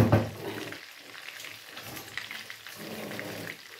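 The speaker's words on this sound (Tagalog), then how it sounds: "malapit nang matapos ang aking pinipirito" Mushrooms frying in a pan, cooked with sweet chili sauce, give a steady close sizzle with a few louder crackling bursts near the start and again near the end, with no talking.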